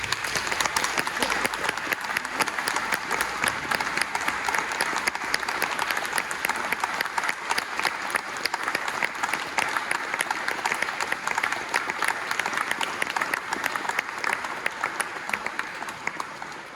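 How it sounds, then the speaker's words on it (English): Audience round of applause after a science and religion discussion, sustained dense clapping from many people, steady and fairly distant, tapering slightly near the end. "Can we offer a round of applause?"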